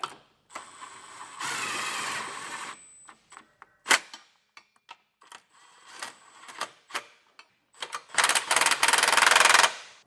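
Ratchet clicks in quick bursts and sharp metallic taps as a 19mm socket tightens trailer hitch bolts while a Curt hitch receiver goes onto a 2025 Toyota Sienna, close-up with short pauses between runs.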